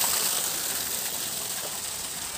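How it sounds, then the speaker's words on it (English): Steady broadband rush of a waterfall at a safari park in Siliguri, a continuous hiss of falling water filling the scene at moderate level with no talk over it. "It's a waterfall."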